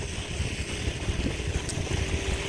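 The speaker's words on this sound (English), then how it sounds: "the wind is coming this way, so it's blowing that snow away from me now" Wind blowing outdoors on a snowy nature walk, a steady broadband rush with gusty low rumble and buffeting on the microphone throughout, no voices.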